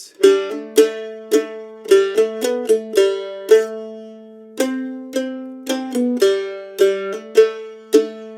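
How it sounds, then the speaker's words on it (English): Mandolin picking the main hook riff of a song, a bright run of plucked notes over a low repeating bass line, steady and close with no voices. "That little bass line going on the mandolin."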